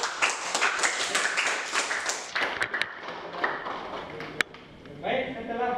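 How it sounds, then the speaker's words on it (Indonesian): Pupils in a classroom clap for a presenting group, a short flurry of claps that thins into scattered individual hits and then fades, with a voice talking at the end. "Tepuk tangan untuk kelompok"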